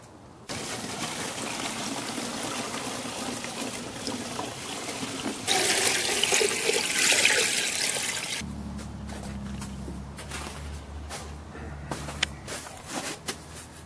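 Water pours through a siphon with a continuous rushing flow that surges louder in the middle and then settles to a softer steady gush, heard alone and close.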